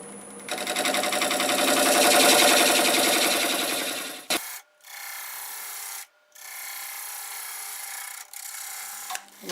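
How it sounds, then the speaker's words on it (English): A half-inch swept-back lathe gouge cuts a tenon into juniper end grain, a steady loud rasping scrape for about four seconds, then quieter intermittent cutting broken by brief pauses; no talking. "I've got a 1/2 inch swept back, and we'll see if we can get us a nice tenon"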